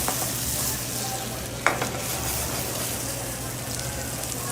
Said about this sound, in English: It's really starting to sizzle.